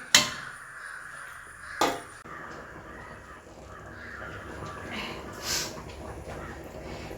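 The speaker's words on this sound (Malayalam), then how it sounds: "കാക്കയുടെ സ്വരം കേൾക്കും കേട്ടോ കാക്ക റബ്ബർ തോട്ടമാണല്ലോ അതുകൊണ്ട് നിറച്ച് മരത്തിലെല്ലാം കാക്കക്കൂടുണ്ട്" Crows cawing outdoors in a rubber plantation, a few sharp calls near the start and around two seconds, then fainter calls later over steady background ambience.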